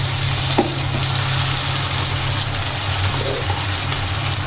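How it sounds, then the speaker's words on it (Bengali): Ginger paste fries in a pan as the base for a chicken roast, giving a steady loud sizzle with a faint low hum underneath and an occasional soft tap of stirring. "এখন ভালো করে ভেজে নেব আদা আর জিরাটাকে।"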